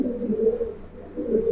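Giribaz pigeons coo in two low, throaty rolling phrases, close and steady, with no voices over them.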